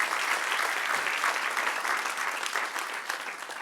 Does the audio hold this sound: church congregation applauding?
yes